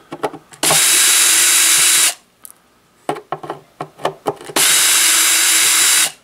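A power drill backs screws out of a Fender Acoustosonic 30 amplifier, with two long, loud, steady whirring runs separated by a pause filled with close clicks and handling knocks.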